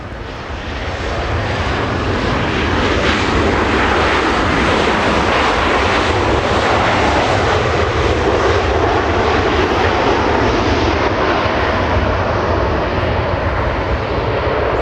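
A Delta Airlines jet arriving at LAX from Dallas, its engines building quickly to a loud, sustained roar that stays strong and near for the whole stretch, with no talk.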